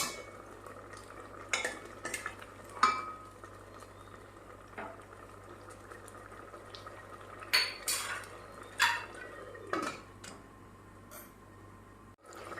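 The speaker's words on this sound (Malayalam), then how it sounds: "ഇതൊന്ന് നല്ലപോലെ ഒന്ന് തിളക്കട്ടെ." Coconut curry bubbles in a pot at a low simmer while metal spoons and cookware clank and scrape in sharp bursts close by, with quieter stretches of boiling between them.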